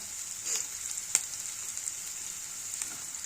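Onions frying with curry leaves, green chilli and cumin for sambar, a continuous close hiss of sizzling oil with a few faint stirring scrapes and one brief clack, fairly quiet and steady with no voices.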